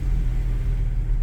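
Toyota Innova petrol car fitted with double Black Core parts, driving in gear: a steady low engine rumble and road drone from inside the cabin, continuous and even throughout the short stretch, with no talking.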